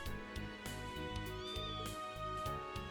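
A character in the Trails into Reverie video game imitates a cat's meow, a short series of rising and falling cat-like calls over looping background music.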